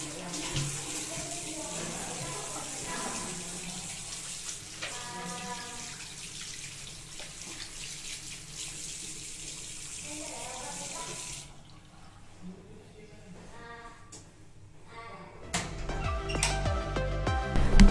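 Tap water runs steadily into a sink in an airport business-class lounge, a constant splashing hiss that drops away partway through before a louder burst of flow near the end.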